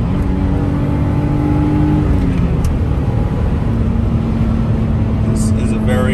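A 1988 BMW M6 coupe pulls hard in third and fourth gear, its engine tone climbing, then dropping at a shift before settling into a steady pull, loud and close from inside the car, with wind and road noise.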